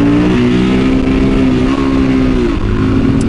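A group of dual sport motorcycles, from Betas and TW200s to Triumph Tigers, KLRs and KTMs, revs loudly and close by in a continuous, shifting engine roar during a group ride.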